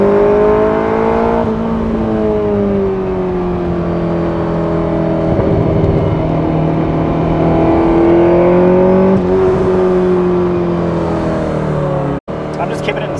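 A 1978 Ferrari 308 GTS engine with individual throttle bodies and electronic fuel injection, held in second gear and revving toward about 7,000 RPM. The loud, close engine note climbs and falls in smooth sustained pulls, then a sharp break near the end.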